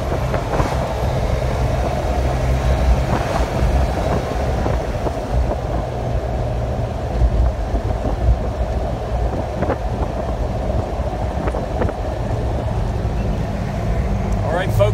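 An M1165-A1 HMMWV military Hummer with a turbo engine and rebuilt transmission drives at steady speed, a loud continuous low engine and road drone inside the cab with a person talking over it.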